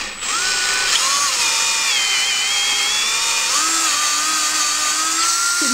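Hand-sharpened drill bit boring into plywood with a steady, high-pitched whine from the drill that holds for several seconds, with slight changes in pitch as the bit bites into the wood.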